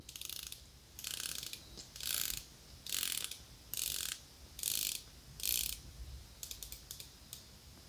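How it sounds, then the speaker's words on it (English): The unidirectional bezel of a Seiko Prospex SPB453 dive watch is turned in about six separate bursts of rapid, crisp ratcheting clicks with short pauses between them, followed by a few shorter flicks, all close and quiet. "Let's go ahead and take a look at the bezel action."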